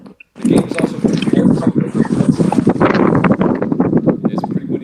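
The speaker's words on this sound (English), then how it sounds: "It's pretty windy on your side." Wind buffets an outdoor microphone in a steady, loud rumbling roar that continues from start to finish while a person talks over it.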